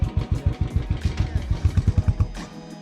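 Motorcycle engine running in Spiti Valley near Pin Valley, with a close, steady thumping idle pulse that cuts out near the end, leaving only a faint hum.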